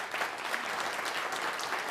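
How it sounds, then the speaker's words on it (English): Audience in a lecture room claps in appreciation of the speaker's wife at a Stanford breakfast briefing, steady dense applause filling the whole moment at moderate level. "Would you join me in just giving her a clap of appreciation?"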